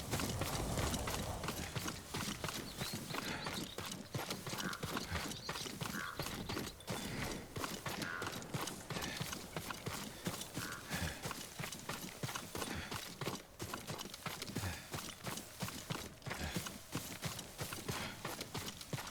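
A horse's hooves clip-clop steadily along a path in the samurai video game Ghost of Tsushima. The quick, regular footfalls go on throughout, with faint tack rattling and no talk over them.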